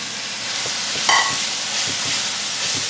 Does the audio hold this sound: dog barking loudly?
no